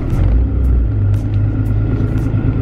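A car with a stock clutch accelerates hard with quick shifts, giving a loud, close, steady engine rumble.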